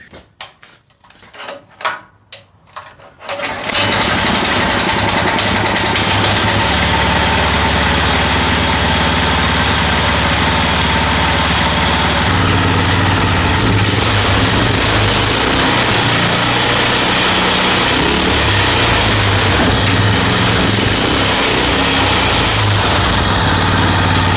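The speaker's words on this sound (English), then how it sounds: "the upgrade is the whole engine. It's got Predator 212" A Coleman BT200X minibike with a Predator 212 engine and a TAV2 torque converter starts after a few short clunks and pulls. It then runs loud and close at a steady idle, with a low rumble and a slight change in pitch partway through.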